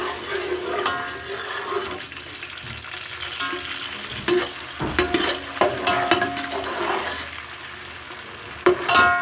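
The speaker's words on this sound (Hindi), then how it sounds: "बीफ जो है गोश्त वो इसमें मिक्स करूँगा और इसको हम 10 मिनट तक अच्छी तरह इसको फ्राई करेंगे" Beef goes into a pot with ginger-garlic paste and fries for nihari. There is a loud, continuous sizzle, with clattering stirs and scrapes that come in bursts toward the middle and the end.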